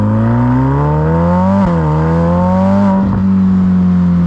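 Ferrari F8 N-Largo by Novitec with a 3.9-litre twin-turbo V8, a loud close engine droning steadily with two quick pitch dips and recoveries, rising gradually like sustained revving, with no talk.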